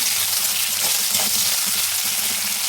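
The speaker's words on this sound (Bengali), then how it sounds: "দেখো পেঁয়াজটা অল্প ভাজা হয়েছে, একটু নুন দিয়ে দিলাম, তো আরও তাড়াতাড়ি হয়ে যাবে ভাজা" Chopped onion fries in hot oil with a pinch of salt, giving a loud, continuous, even sizzle that stays close and steady throughout.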